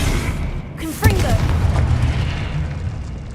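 In Hogwarts Legacy, a Confringo blasting spell goes off as a deep boom with a rumbling tail. Game combat noise and shouted spell words sit around the blast.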